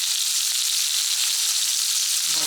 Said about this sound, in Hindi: ऑयल गर्म होते ही हम इसमें मैरिनेट किया हुआ चिकन डाल देते हैं।